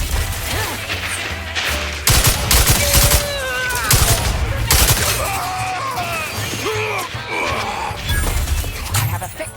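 Combat gunfire in The Outer Worlds 2, with dense, rapid shots crackling throughout alongside impacts and sweeping, whining synthetic tones, loud and continuous under brief vocal sounds.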